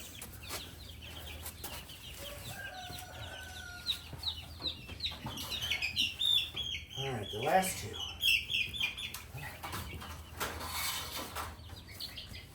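Australorp and Wyandotte chickens cluck and call in a busy flock pen holding around 38 birds, several of them males, with overlapping clucks and chirps at moderate distance and a person talking over them.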